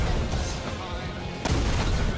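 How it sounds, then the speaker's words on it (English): Dense barrage of in-game firework explosions during a chaotic VTuber anniversary stream, a continuous roar of booms and pops with a sharp burst near the middle, layered under voices talking. "There's so many fireworks."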